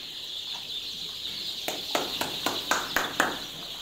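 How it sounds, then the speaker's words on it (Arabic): Chickens in a coop give a quick series of about six or seven sharp clucks in the second half, fairly close, over a steady background hum and faint ambient noise. "هذه الفراخ اهي بوريها لكم دلوقتي"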